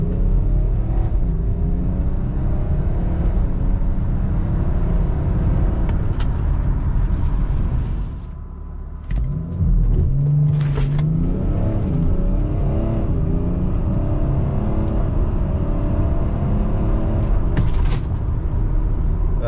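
BMW X5 35d diesel SUV, tuned, after an emissions delete, pulling hard from a standstill to 60 mph, loud steady engine drone with a brief dip at a gear change before the roar resumes and climbs.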